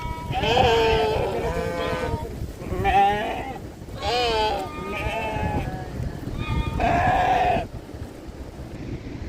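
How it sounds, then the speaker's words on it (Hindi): A flock of sheep bleats repeatedly out on a high Himalayan alpine meadow on the way to Kedarnath. The cries are loud and close and overlap one another, with a steady wind-like hiss underneath. "भेड़ चुगने के लिए जा रहे हैं"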